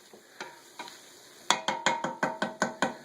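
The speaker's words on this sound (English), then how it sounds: "I'm going to keep these onions and jalapenos stirred up. Always stir." Onions and jalapenos for chili cooking in a pot are stirred with a flat wooden spoon: a few soft scrapes, then a steady run of six or seven sharp, rhythmic scraping strokes, close and clear under a faint sizzle.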